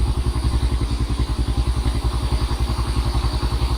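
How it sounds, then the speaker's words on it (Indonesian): A motorcycle rides along a narrow dirt footpath in rural Lebak, Banten, its close engine chugging in a fast, even pulse with a clattering rumble that stays loud through the whole stretch. "Kita berhenti dulu, Pak, biar ada motor dulu yang lewat"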